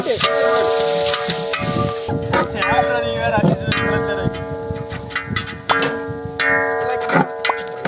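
Onions frying and being stirred in hot oil in a pan where cashews and raisins were just fried, a steady sizzle with scraping stir strokes and scattered ticks throughout, with a faint tonal hum underneath.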